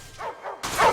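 A dog in the film Final Destination gives a few short, yipping barks at moderate loudness, with a brief break before a sharper, louder bark, and no voices over it.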